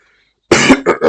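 A few harsh coughs in quick succession, close and loud, after a moment of near silence.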